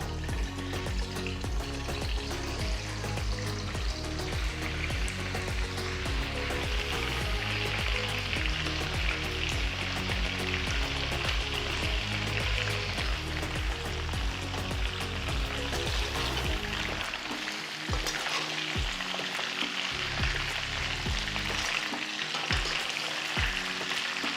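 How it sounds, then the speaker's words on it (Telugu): Boiled chicken pieces fry in oil in a kadai, a loud, dense, continuous sizzle up close with occasional stirring scrapes, alone without speech. "ఉడికించిన చికెన్ పీసెస్ని కడాయిలో వేసి ఇలా గోల్డెన్ బ్రౌన్ రంగులోకి మారేంత వరకు వేయించాలి"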